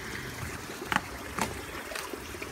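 Water running through a backyard pond system with biological filtration, splitting off toward a goldfish pond. It makes a steady close trickle and wash with a few soft splashes, and no one speaks.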